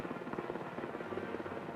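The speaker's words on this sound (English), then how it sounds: "This helicopter leaving picturesque Sokotorpen is detoured to speed a critically ill woman to Godthåb" Helicopter taking off and leaving picturesque Sokotorpen, Greenland, a faint rhythmic rotor chop with a low engine hum, steady and fairly distant across the short stretch, no talking.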